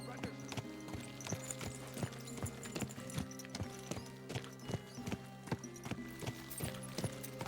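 Rhythmic clip-clop of horse hooves trotting steadily in Kingdom Come: Deliverance II, with faint background music and game ambience beneath.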